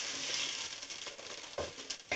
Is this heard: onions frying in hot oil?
yes